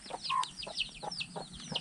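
Chickens clucking in a coop inside a house, a string of short, fairly faint clucks and squawks in quick irregular rhythm, with no talk.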